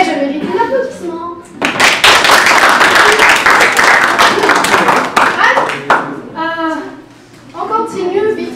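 Loud, close clapping from a group at a robotics introduction session bursts in after speech, a dense stretch of many hands for about four seconds, then tapers off as people resume talking.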